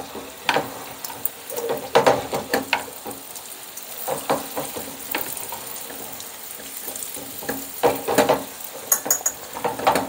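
Spoonfuls of awama dough, the Arab fried dumplings also called luqmat al-qadi, drop into hot oil at home, with bursts of sizzling, spoon stirring and clinks of a metal pot repeating through the stretch, no talk.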